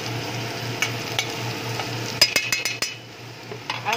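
Onions being stirred in a hot pan for a Filipino chicken wing dish, giving a steady low sizzle with scattered scraping and clinking strokes of the utensil against the pan, close and clear with no talking.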